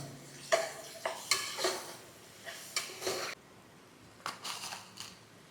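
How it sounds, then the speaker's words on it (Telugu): Ginger garlic paste stirred in a pan for gongura mutton curry, a spoon scraping and clinking in a series of short, fairly close strokes with brief pauses between bursts. "అల్లం వెల్లుల్లి పేస్ట్ పచ్చివాసన పోయేంత వరకు మనం కలుపుకుందాం."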